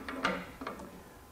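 Hytorc Lion Gun pneumatic torque tool tightening a bolt to 250 foot-pounds: a few quiet, close mechanical ratcheting clicks in two short bursts, then fading to stillness.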